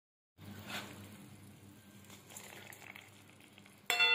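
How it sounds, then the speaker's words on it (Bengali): Marinated prawns frying in spiced oil in a pan, a steady soft sizzle that starts abruptly, holds evenly and ends in a louder burst with a metallic clink. "এবার ম্যারিনেট করা চিংড়ি মাছটা এতে দিয়ে দেব।"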